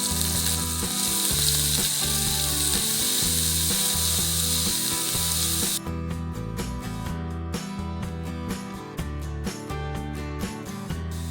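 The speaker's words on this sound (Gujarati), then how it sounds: "જીરું અને આદુ લસણ સાતળાઈ ગયા પછી લીલા કાંદાનો સફેદ ભાગ નાખી સાતળવા દેશું." Green onion whites sautéing with cumin, ginger and garlic for a Kathiyawadi cheese and green onion dish give a steady, loud sizzle with occasional stirring clicks, all over a continuous musical background.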